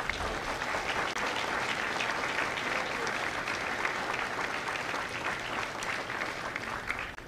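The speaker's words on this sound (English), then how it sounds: "Ladies and gentlemen, a round of applause for the families of the Empire." An audience at a Marine graduation at MCRD San Diego applauds steadily, dense sustained clapping that fills the whole stretch.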